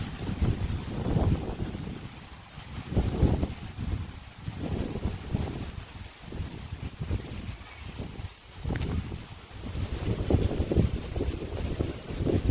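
Gusty wind buffets the microphone in rolling, uneven surges, roaring loud and then easing, with nothing else standing out.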